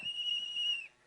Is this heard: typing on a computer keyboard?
no